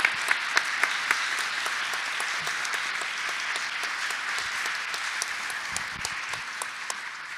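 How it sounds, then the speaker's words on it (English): An audience at a high-level roundtable on artificial intelligence applauds its panelists with a steady, dense round of clapping that holds at an even level throughout. "Can we please have a round of applause for our panelists?"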